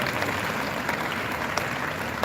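An audience at a live chat event claps in a short, steady burst of moderate-volume applause.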